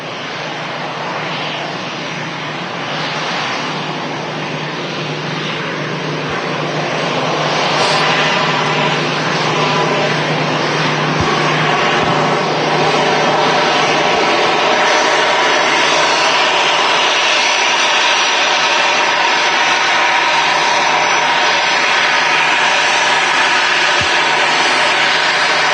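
An EasyJet jet airliner at Manchester Airport on a sunny evening gives a loud, steady engine roar that swells slightly and holds for the whole stretch, with no voices.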